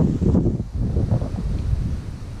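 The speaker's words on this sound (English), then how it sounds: "the wind hasn't been too distracting or too annoying" Strong wind buffeting the microphone at an outdoor allotment on a cold day, a loud continuous low rumble with gusts and no voices.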